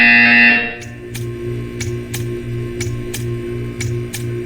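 Game buzzer in Portal 2 sounding as a steady repeating pulse, about eight evenly spaced beats over a low droning hum, with no talk.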